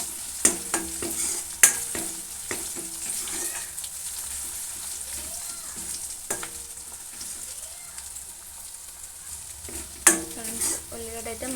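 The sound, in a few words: onions frying with ginger paste and turmeric in pan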